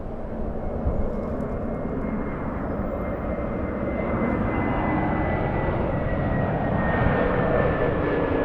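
Jet airliner taking off at Los Angeles LAX, a loud steady engine roar filling the whole stretch and building slightly, heard from nearby with no voices.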